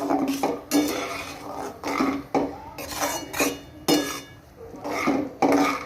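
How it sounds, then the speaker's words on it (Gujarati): Roasted semolina for rava upma is stirred in a pan over low flame, with rhythmic metal scrapes and clinks of the spoon against the pan, each stroke close and distinct, repeating roughly twice a second, with no talking. "હવે આપણે ગેસને ધીમો કરી દઈશું અને આને સરસ આપણે હલાવી લઈશું"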